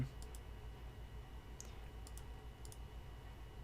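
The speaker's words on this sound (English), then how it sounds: "If we're clicking on files" Computer mouse clicking on files, sharp light clicks in small pairs and triples spaced across a quiet room hum, close and faint, with no talking.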